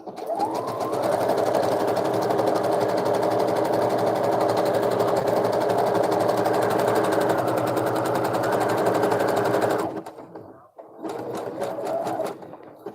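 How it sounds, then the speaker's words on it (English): Home sewing machine stitching in long steady runs, a fast rhythmic whirring hum that stops briefly near the end and then starts up again, close and fairly loud, with no talk. "So I just got my sewing machine"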